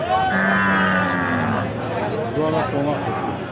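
A cow lets out a long, loud low near the start, then fades into busy crowd chatter and voices of a Bangladeshi cattle market selling thin, bony cows.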